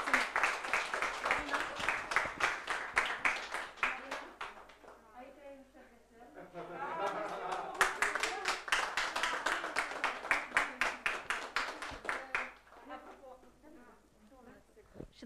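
An audience at a signing ceremony for LEADER rural development funding contracts applauds the LEADER team, with rhythmic, fairly close clapping that runs for most of the stretch under and between voices speaking.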